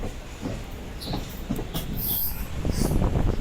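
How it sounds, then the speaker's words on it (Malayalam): A train rumbles along steadily, with low rolling wheel noise, faint rhythmic clatter and occasional high squeals, continuous and fairly close throughout. "ഈ ട്രെയിൻ വളഞ്ഞ് പൊളഞ്ഞ് പോകുന്നുണ്ട്"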